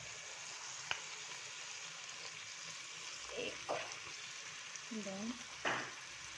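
Spices fry in hot oil for a garlic-based liver gravy, a faint constant sizzle broken by a few clinks and scrapes of stirring in the pan.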